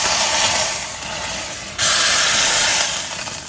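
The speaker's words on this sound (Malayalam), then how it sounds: "അതിലേക്ക് ഈ ലാസ്റ്റ് ഉള്ളി മൂപ്പിച്ച് ഒഴിക്കാൻ പോവുകയാണ്" Fried onions with curry leaves, poured into a king fish curry made with roasted coconut, give off a loud, steady sizzling hiss that jumps sharply louder partway through and then slowly eases.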